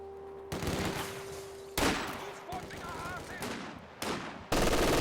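Machine gun squad firing in Company of Heroes 2, a multiplayer real-time strategy match: loud bursts of automatic gunfire in several sharp blocks, with battlefield voices heard between them.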